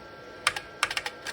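Keys clack on an IBM Model 5160 PC keyboard, a few sharp, close keystrokes in quick irregular bursts against a quiet background.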